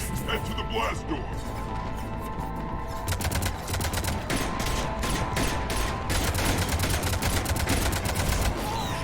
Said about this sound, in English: Cannons engaged.